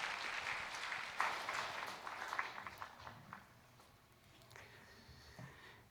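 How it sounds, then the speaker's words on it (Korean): A church congregation claps, louder at first and then thinning out as the applause fades into scattered claps, faint and at a distance. "돌아서 인사하고 들어가실 때 큰 박수로 여러분 격려해 주시기 바랍니다"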